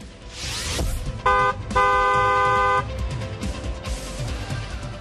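A car horn honks twice, loud and close, the second blast held longer, over steady traffic noise.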